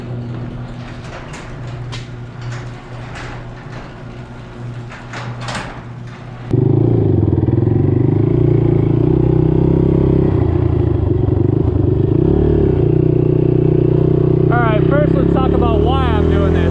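Honda TRX 450R ATV engine on a top speed run, a steady droning roar that jumps louder partway through and holds high and close, with wind noise and a rising whine near the end.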